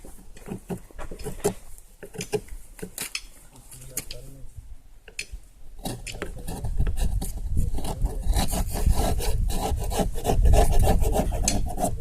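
Wooden beehive frames being scraped clean after a honey harvest, with repeated rough rasping and rubbing strokes close up that grow denser and louder toward the end.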